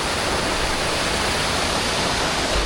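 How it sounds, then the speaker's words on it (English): Water rushes down below a hiking path on the West Highland Way, a dense, steady roar of stream or waterfall noise, loud and unbroken throughout. "We've just got the water down below, so nice to listen to that as you're walking."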